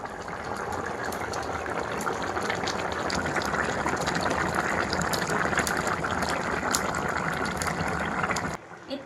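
Water pours steadily into a pot of simmering fish curry with crab, a continuous loud gushing splash that runs for several seconds and then stops abruptly.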